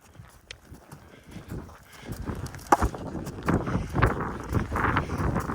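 A horse gallops, rapid rhythmic hoofbeats on soft ground that grow louder and closer over a few seconds, with faint wind in the background.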